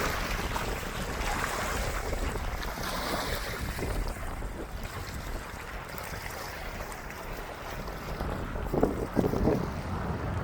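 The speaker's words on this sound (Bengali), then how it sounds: "কি পরিমাণ একটা ঢেউ আছে।" Lake water washing and lapping at Belle Isle Park in Detroit, a continuous rushing wave sound mixed with heavy wind buffeting on the microphone, steady and fairly close, with no speech.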